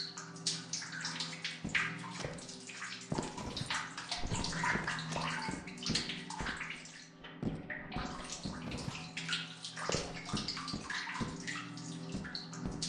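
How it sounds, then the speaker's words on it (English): Running water in the video game Lethal Company flows continuously in a bathtub-like rush, with scattered knocks and clatters breaking through. No one speaks. "The water sound gave me a scare."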